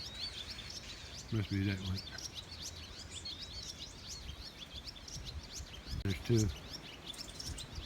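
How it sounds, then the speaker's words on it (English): Repeated high bird chirps and tweets throughout at a pasture, several birds calling back and forth, with someone briefly speaking twice under them. "I can hear a bird chirping."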